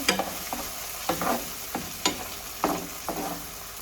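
Onions, peppers and other ingredients for Jamaican ackee and saltfish sauté in oil in a pan with a soft, continuous sizzle, broken by regular scrapes and stirs of a utensil about every half second.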